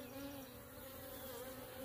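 Stirred-up honeybees in a nucleus colony hum in a steady, faint, continuous drone, with a low buzzing tone holding throughout and no voices.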